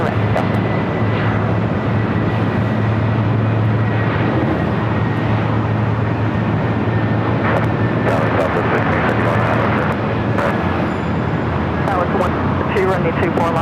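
Airliner engine noise at LAX, a steady broadband roar with low rumble continuing throughout, loud and close, with occasional radio tower chatter and voices over it.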